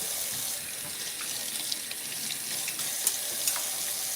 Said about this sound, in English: I'm washing dishes